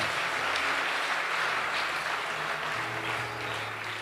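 A church congregation applauds in a steady, dense wash of clapping that carries on throughout, fairly loud and unbroken, with no talking over it.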